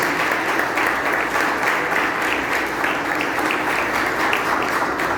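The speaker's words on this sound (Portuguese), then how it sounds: "dá uma salva de palmas bem forte para o nosso Senhor Jesus" Church congregation applauding together during a service, a steady, full round of clapping that holds evenly throughout at moderate loudness.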